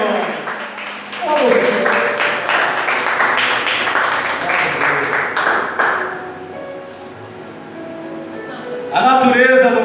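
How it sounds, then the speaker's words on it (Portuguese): A church congregation breaks into loud, sustained applause that fills several seconds, dense and broad, then tapers off as a voice rises over the room. "Vale uma salva de palmas bem forte."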